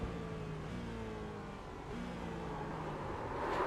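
GT4 race car in a sim racing game at Oulton Park, its engine droning steadily with stepped pitch changes as it downshifts on the way into a corner, loud and continuous throughout.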